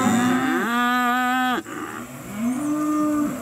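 Steers bellow at a Georgia livestock sale: one long, loud, harmonically rich moo lasting over a second, cut off abruptly, followed by a quieter, lower drawn-out moo nearby.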